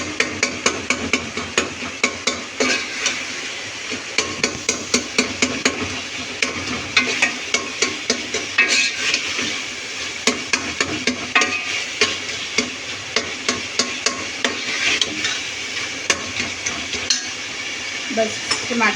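Khashkhash (poppy seed) chutney being roasted in a pan, with a steady run of sharp spoon-on-pan scrapes and clinks over a continuous close sizzle, with no pause across the whole stretch.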